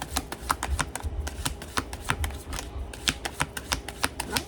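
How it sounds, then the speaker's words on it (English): Tarot cards being shuffled by hand, a steady run of quick crisp riffling snaps and slaps, close and fairly loud, with no talking. "Did I even shuffle these cards?"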